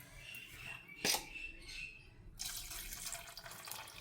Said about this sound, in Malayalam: അപ്പോൾ ഇതിലേക്ക് നമുക്ക് കുറച്ച് തേങ്ങാപ്പാൽ ഒഴിച്ച് കൊടുക്കാം